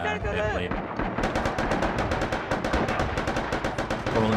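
Rapid gunfire in the World War II shooter Red Orchestra 2: Rising Storm, a dense stream of sharp repeated shots at steady rhythm, loud and continuous, with game noise underneath.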